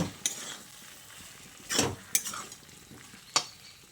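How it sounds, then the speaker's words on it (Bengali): Tender drumstick stems with green chillies and a pinch of sugar stirred together in a pan, a low sizzle under a few sharp scraping strokes of a spatula, close and moderately loud. "তারপর আবারও একসঙ্গে ভালো করে নেড়ে চেড়ে মিশিয়ে নিচ্ছি।"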